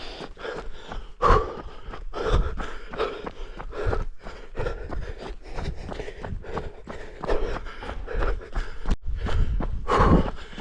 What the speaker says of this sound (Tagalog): Puro hingal.